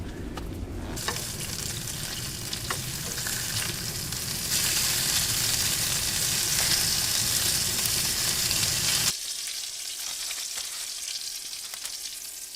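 Loud, continuous sizzling and crackling of meat frying in a hot pan on a wood stove in a cabin, with occasional scraping stirs, then dropping to a quieter sizzle near the end.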